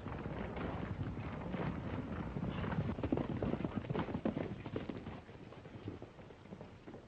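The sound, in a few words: horse hooves clip-clopping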